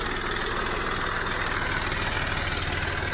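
A John Deere 5055D tractor engine idles nearby in a steady, low rumbling drone with an even throb, continuous and unchanging, with no talk over it.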